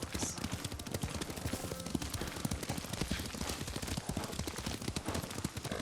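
Horse hooves clip-clopping in steady rhythm as a rider travels in Ghost of Tsushima, with a dense layer of ambient game sound and faint talk over it.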